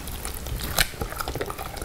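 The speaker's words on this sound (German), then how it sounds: "Risotto macht auch ziemlich lustige Geräusche." Soft, irregular bubbling and gentle clicks from a pot of spinach risotto simmering close by, with no voices.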